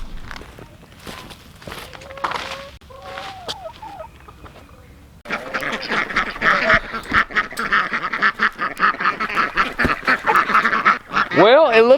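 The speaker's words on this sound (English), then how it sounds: "I think we should check on the ducks and see how they're doing." Ducks on a farm kept alongside chickens and a pair of Muscovy ducks, quacking in a busy, dense chorus mixed with clucking fowl, growing louder and continuous in the second half.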